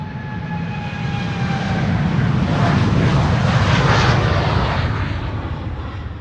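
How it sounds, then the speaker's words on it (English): A KLM jet airliner departs Amsterdam Schiphol's Polderbaan runway for Portland, Oregon, its engines swelling into a loud, steady roar that peaks mid-pass and then eases slightly, broadband rumble with a faint whine. "This is KLM flight 615 going to Portland in Oregon."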